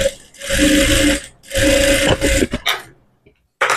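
Sewing machine stitching piping onto a blouse in two sustained runs of rapid, whirring needle clatter, close up, with short bursts and pauses toward the end.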